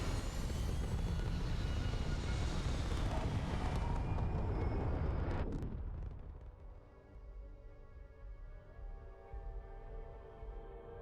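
A spaceship lifts off in the Starfield video game with a loud, dense engine roar that cuts off sharply after about five seconds, then leaves a quieter tonal hum and a soft rumble.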